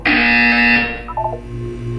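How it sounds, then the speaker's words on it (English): Harsh electronic buzzer from the video game Portal 2, one loud sustained tone for about a second, then fading into quieter game background sounds. "You will hear a buzzer."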